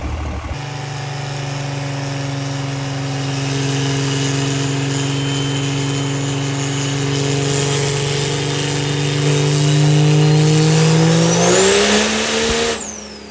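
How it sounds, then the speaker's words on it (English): A diesel pickup truck engine on a dyno at a diesel truck competition, a loud sustained roar that climbs steadily in pitch for over ten seconds before dropping off abruptly at the end, heard close and alone. "Okay, Cody's up on the dyno."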